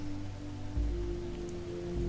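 Steady rain falls on the ground outside and on fabric overhead, with the ocean rushing in the distance; a soft, continuous patter with a low rumble beneath, a slightly heavier gust of drops near the middle.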